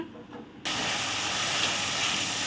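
A spice paste of turmeric, cumin, coriander and chili powders with tomato, chili and ginger pastes hits a hot pan for a katla fish dish, bursting into a loud, continuous sizzle after a brief quieter moment.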